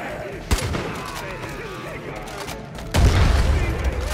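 Far Cry 5 combat erupts in a sharp blast near the start and a second, heavier explosion about three seconds later, with crackling gunfire in between.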